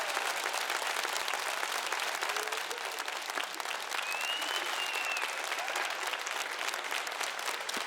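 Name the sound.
audience applause welcoming guests on a TV show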